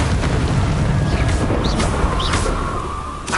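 Incendio fire spell in Hogwarts Legacy bursts out with a loud, rumbling whoosh of flame, a few sharp crackling flashes riding over a dense low roar that fades slightly toward the end.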